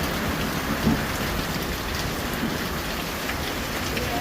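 Steady rain falls heavily during a thunderstorm, a dense hiss of drops hitting surfaces outdoors near a river, with one faint low rumble early on and no speech.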